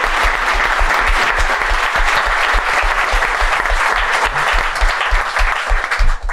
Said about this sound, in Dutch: Geef een keihard applaus, hier is Mark Wouwmans!